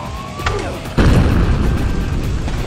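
A bomb goes off in the motorbike combat game Road Redemption, one sudden loud boom that leaves a sustained roaring rumble over steady game noise, with nothing else standing out.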